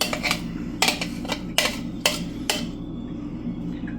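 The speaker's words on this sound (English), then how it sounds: "Make sure you scrape it all out here." A utensil scrapes and clinks against a pot or bowl of cranberry relish in a kitchen, six sharp, evenly spaced metallic strokes up close, then quiet.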